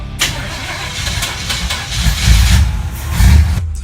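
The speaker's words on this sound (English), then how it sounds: "asked him to start the car" A car engine cranks and catches, then revs and settles into a loud, close running rumble with two swelling surges, the start of a drive to a crime scene in a Bengal-set mystery story.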